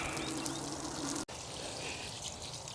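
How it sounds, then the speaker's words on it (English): Steady rush of water from a hose rinsing the tires of a boat trailer, continuous and close, with a brief cutoff about halfway before the spray resumes. "rinse off the tires underneath as much as I can"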